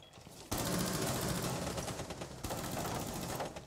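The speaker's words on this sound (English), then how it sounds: "I just shot Ying up." Sustained automatic gunfire in Rainbow Six Siege, a loud, dense rattling stream that starts abruptly and continues with little pause, briefly cut and resumed, heard close with no talking.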